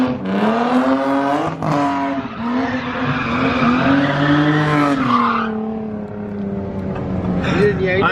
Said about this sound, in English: at least he's drifting though